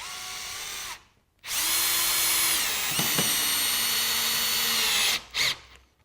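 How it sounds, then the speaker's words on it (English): A power drill whirs loudly and steadily for several seconds, driving a screw into melamine without a pilot hole, with a brief silence before it and a short burst after it stops. "grab one of these melamine screws for you and drive it into a piece of melamine"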